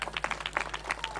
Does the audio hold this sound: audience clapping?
yes